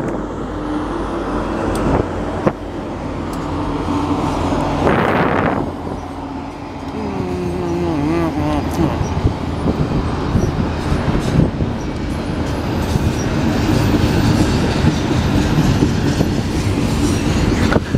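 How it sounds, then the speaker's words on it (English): An eastbound double-stack intermodal freight train rolls slowly past at Minidoka, a loud, close, continuous rumble with rail clatter, occasional wheel squeal and sharp clanks across the whole stretch. "We got an eastbound double stacker right in front of us."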